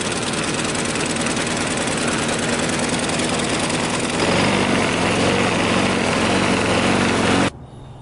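A small gasoline engine running on gasoline vapor drones steadily and loudly, its rough rumble lifting slightly in pitch partway through before cutting off abruptly near the end.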